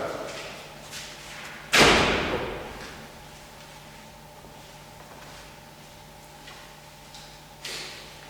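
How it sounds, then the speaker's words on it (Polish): A door is closed with one loud thud early on, followed by quieter room noise, faint ticking and a softer knock near the end. "Mach, zamknij drzwi jeszcze raz."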